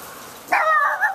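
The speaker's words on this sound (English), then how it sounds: "Hey, what are you barking at?" A single short dog bark, fairly close, followed by a quick second yip.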